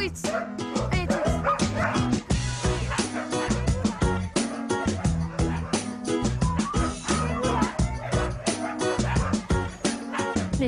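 Sled dogs bark, yip and whimper almost nonstop in a dense, loud chorus, with a person's voice speaking intermittently over the excited pack.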